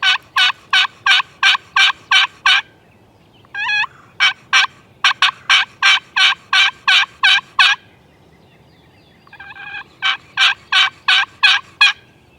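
A wild turkey gobbler in West Virginia gobbles loudly again and again in fast, rhythmic bursts. The runs of sharp gobbles are broken by shorter rattling calls and brief quiet gaps, all close and clear with no talking.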